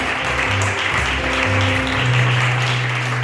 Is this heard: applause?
yes